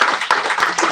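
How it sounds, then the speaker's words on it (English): Clapping from an audience after a discussion following a film screening about Augusta Savage, a dense, steady patter of many hands across a brief stretch. "please give us another round of applause"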